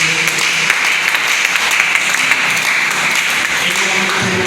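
Church congregation applauding a church leader, a steady, dense wash of clapping that fills the whole clip, with faint voices mixed underneath.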